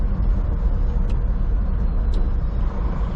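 A truck on a highway in southern British Columbia rolls down a big mountain hill, giving a steady low engine and road rumble that stays constant throughout.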